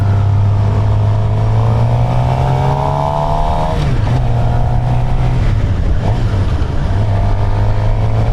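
A Suzuki GSX-R 750 on a demo-day ride roars loudly and continuously, its engine pitch climbing and dipping as the rider revs through the gears, with steady wind rush behind it.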